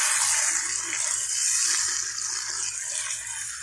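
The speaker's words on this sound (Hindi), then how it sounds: "अब हम इसके अंदर 1 कप के करीब पानी डाल देंगे।" Water pours steadily into a cooking pot of potatoes with a smooth, rushing hiss, close and continuous for a few seconds before tapering slightly.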